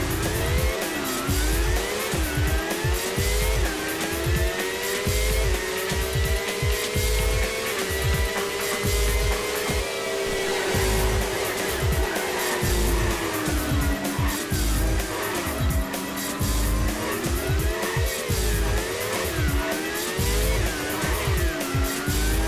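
Race cars roar through a lap of the PS2 racing game RS3: Racing Simulation Three, engines droning and shifting pitch continuously while tires squeal repeatedly through corners, loud and steady throughout.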